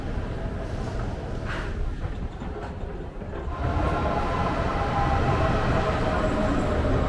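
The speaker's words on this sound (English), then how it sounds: "this is also where you go to catch the subway trains" A Munich subway train in an underground station, a rumbling roar and rattle of cars echoing off the walls and swelling louder in the second half, with faint voices mixed in.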